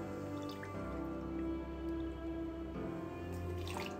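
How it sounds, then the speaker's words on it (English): Water is poured into a jug holding an acid mix for a gin botanical infusion kit, a quiet, steady trickle and drip running for a few seconds with no talking. "to that I'm gonna add 100 milliliters,"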